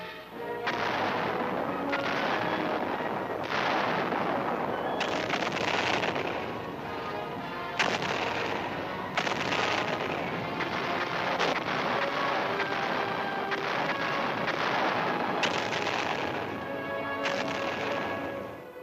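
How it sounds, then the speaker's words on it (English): Artillery barrage on Quemoy island in 1958, from archival footage: a dense, continuous roar of heavy booms and blasts for nearly twenty seconds, loud throughout with no voices. "the communists opened fire on the offshore island of Quemoy"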